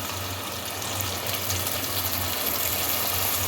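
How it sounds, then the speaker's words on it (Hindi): About a glass of lukewarm water poured into meat and fried masala with yogurt, cooking for chana dal gosht, a continuous gushing splash that holds steady and close throughout. "इसमें जो है नीम गर्म पानी वो डाल दें"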